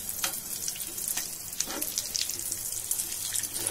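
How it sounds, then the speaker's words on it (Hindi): Chickpea veg shami kebab patties shallow-fry in hot oil in a pan, giving a close, continuous crackling sizzle with occasional louder spits and pops, and no voices. "ऐसे ही आपको अलट पलट के सेक लेना है, बड़े ही धीरे से हल्के हाथों से इसे पलटना है"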